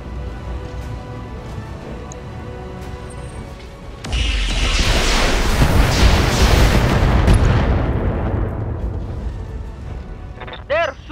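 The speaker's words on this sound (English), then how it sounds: "They're shooting at me!" Video game battle explosions and gunfire: a low rumbling blast swells in around four seconds and roars for several seconds before fading, over a steady background hum, with a brief sharp sound near the end.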